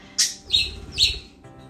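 A pet bird squawks as someone tries to chase it away, giving three loud, harsh, shrill calls in quick succession, close by and alone with no talking.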